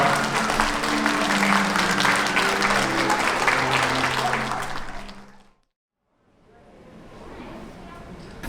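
Wedding guests in a convention hall ballroom applaud loudly and steadily for about five seconds, then the clapping fades to silence before a softer room murmur returns.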